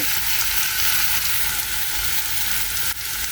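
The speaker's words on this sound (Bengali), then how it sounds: "এই যে সে কোরবানির ভুড়ি রান্না করতেছি এই যে মশলা কষাচ্ছি আমি" Spice masala frying with Qurbani beef tripe in a pan, a steady loud sizzle with constant crackling throughout, one brief scrape of stirring near the end, no voices.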